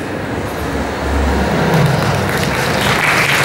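Audience applause at a Paris Manga convention panel, a dense steady clapping from a large crowd, loud and continuous with a rumbling hall ambience underneath.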